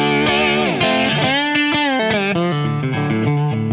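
Electric guitar played through an EP Booster pedal set at three o'clock gives a loud, saturated, slightly distorted tone, sliding bends and sustained chords with swelling, wavering notes.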